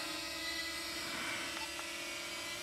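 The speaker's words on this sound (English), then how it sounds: "So I'm going to move the drone forward, I'm just going to tilt it that way, move the drone forward, press the button" A DJI Flip drone flying forward gives off a steady, high-pitched whirring propeller drone that holds constant and fairly strong throughout, with no speech over it.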